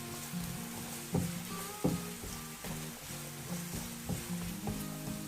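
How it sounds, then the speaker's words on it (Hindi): Chopped onion sautés in a pan with a soft, continuous sizzle, broken by a few sharp scrapes and taps of stirring, heard alone without talk. "इसको आपने हल्का सा सौटे करना है। प्याज यानी कि थोड़ा सा नरम पड़ जाए।"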